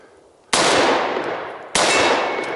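Two loud gunshots, about a second apart, each with a sharp crack and a long ringing decay from rounds striking a steel target on an outdoor shooting course, with no talking.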